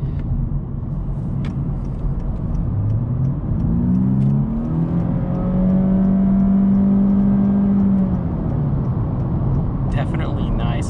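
A 2022 Honda Insight hybrid on a test drive, its engine droning steadily from inside the cabin as it rises in pitch through acceleration and then holds, under constant road rumble.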